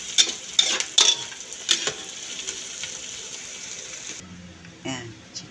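Ginger, onion, garlic and chili go into a pan for chicken curry, with a few sharp clatters as they drop in, followed by a steady close sizzle and stirring, then quieter scraping near the end.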